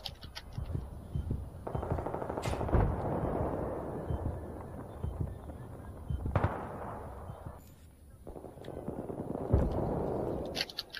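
Sustained automatic gunfire in a video game conquest match, long rattling bursts with short breaks between them, fairly loud and close, with heavier booms mixed in.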